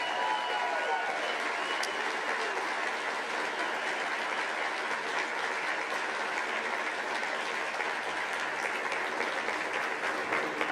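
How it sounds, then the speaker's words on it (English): Sustained applause from a live audience at the first South Carolina Republican gubernatorial debate of 2026, a dense steady wash of clapping filling the hall at even loudness for the whole stretch, with no voices rising above it. "Let's go and have one more round of applause for all those candidates on stage here tonight."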